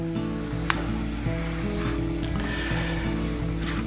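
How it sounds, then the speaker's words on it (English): Tomato gravy simmers and sizzles in a pan as it is stirred, a steady close bubbling hiss with faint scraping, and there is no talk. "You can let it simmer for a few seconds, but not too long."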